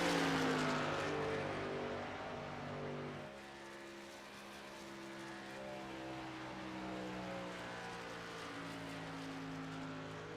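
Race truck engines at a Kansas truck race, a steady high-pitched drone with rising and falling harmonic tones as trucks run the track, fairly distant and continuous with no talk.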